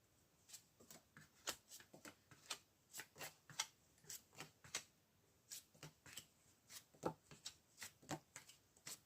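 Tarot cards being shuffled before a draw, a quiet sequence of crisp riffling flicks and taps in an uneven rhythm, heard close and alone.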